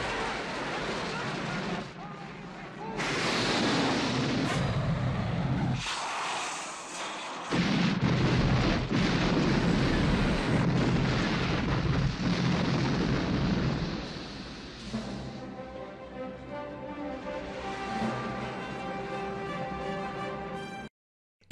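A series of big booming explosions from the warehouse blast in the James Bond film Octopussy, with rumbling blasts and debris, then a tense musical passage swelling over the fading roar.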